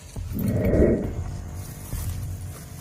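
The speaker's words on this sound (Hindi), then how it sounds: "तुम भौंक सकते हो।" A dog barks and growls once up close, loud at first, then the sound tails off into quieter low rustling in an outdoor jungle setting.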